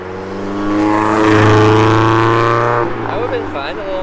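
A small Mazda Miata passes close by on a California roadside, its engine note rising to a loud peak around the middle and then fading as it moves away.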